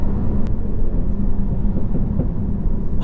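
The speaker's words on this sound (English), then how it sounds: "Oh, you get nice overrun." Renault Megane Trophy 300 engine on overrun while driving, a loud, steady low rumble of engine and road noise filling the cabin without any speech.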